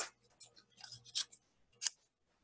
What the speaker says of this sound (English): Sorry, I took the scissors right from you.